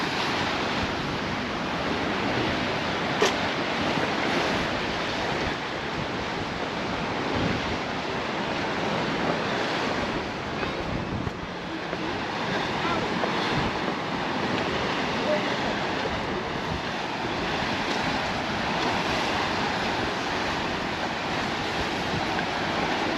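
Sea waves churn below the rocky coast at Costa de la Calma, Mallorca, as a constant, fairly loud wash of surf mixed with wind buffeting the microphone, steady throughout with no clear breaks.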